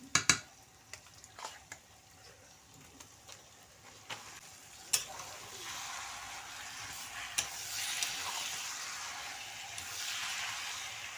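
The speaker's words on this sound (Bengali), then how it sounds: "ম্যারিনেট করে রেখা মাংসটা ওর মধ্যে দিয়ে দিলাম" Marinated chicken sizzles in fried spice paste with turmeric, a faint steady frying hiss with scattered clicks and scrapes of stirring, growing slightly louder toward the end.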